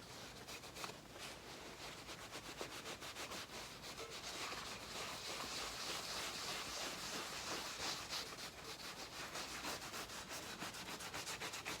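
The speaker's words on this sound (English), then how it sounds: "And we're going to rub it all over." A wooden console table being rubbed with finish gives off a steady, close, rhythmic scrubbing, a dense rasping swish that keeps going without pause and with no talking.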